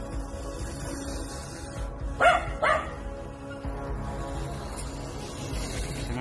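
A dog gives two sharp, loud barks in quick succession, fairly close, against a quiet outdoor background with steady low noise.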